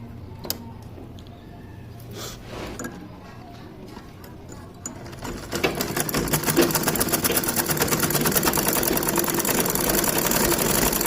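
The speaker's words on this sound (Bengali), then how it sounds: "আস্তিনের আর এক সাইড বাকি আছে, ওইটা এবার সেলাই করব।" Domestic sewing machine stitching the remaining side seam of a sleeve on half-pants, a steady fast mechanical whir that starts softer and grows louder and continuous midway, close and alone.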